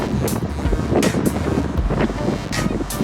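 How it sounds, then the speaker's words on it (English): Wind rushing over a microphone while cycling along Fish Creek Boulevard, loud gusty buffeting roar with brief sharp bursts, steady for a few seconds with no speech. "You can hear the wind."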